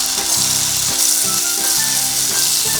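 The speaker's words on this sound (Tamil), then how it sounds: "இப்போ பொரிக்கிறதுக்காக எடுத்து வச்ச உருண்டையை எண்ணெயில் போட போகிறேன்." Drumstick-leaf dough balls sizzle and crackle steadily in hot oil, a loud, close frying hiss with no talking.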